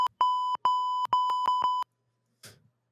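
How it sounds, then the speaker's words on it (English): Censor bleep tones cut over cursing: a quick series of loud, pure electronic beeps, some short and some longer, followed by a faint burst of noise. "Beep, beep, beep, beep, beep, beep. That was a lot of cussing right there."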